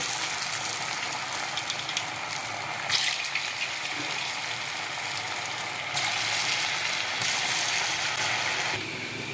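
Bonda dough balls frying in hot oil: a loud, dense, continuous bubbling sizzle that swells in intensity a couple of times, heard close and alone without speech.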